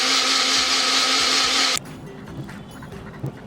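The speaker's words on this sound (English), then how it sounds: "The blender works fine." A Wonderchef Nutri-blend blender whirs loudly and steadily at close range, then cuts off abruptly halfway through, leaving a quiet room with faint clicks.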